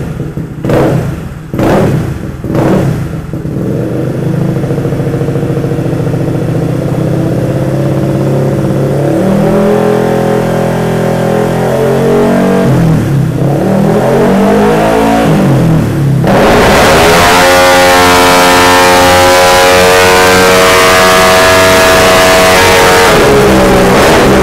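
A motorcycle engine revs hard on a dyno, loud and close, with short blips at first, then sustained rising and falling revs and a high-pitched run near the end.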